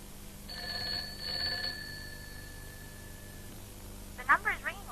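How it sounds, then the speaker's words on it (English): Telephone ringing tone heard through a receiver, two long buzzing rings with steady tones, faint and thin, followed by a pause and then brief speech at the end. "The number is ringing all right."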